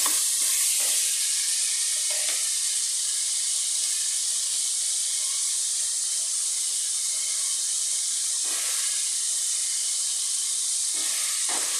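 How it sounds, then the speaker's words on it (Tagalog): Chicken sautés in a pan for tinola with a steady, bright hissing sizzle throughout, broken by a few faint stirring scrapes. "nilagay ko na po ang ating chicken. Ayan. Igisa-gisa lang po natin"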